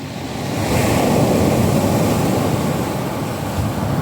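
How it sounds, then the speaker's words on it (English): Big sea waves break on a shingle shore at a fishing spot, a loud, close, continuous wash of surf swelling up and holding steady without any voices. "we've got some pretty big waves coming in at the moment"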